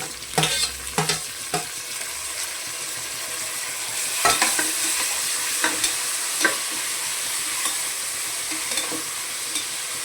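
Greens and tomatoes fry in a home-style pan, a steady sizzle running throughout under repeated sharp scrapes and stirs of a spatula against the pan, with no voices.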